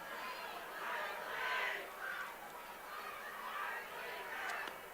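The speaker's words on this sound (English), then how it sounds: "And we hear some booing there." Booing rises from the stands at a high school football game between Rapid City Central and Sioux Falls Roosevelt, a broad, distant crowd roar swelling and fading in waves.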